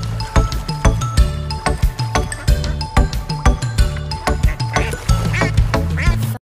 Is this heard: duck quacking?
yes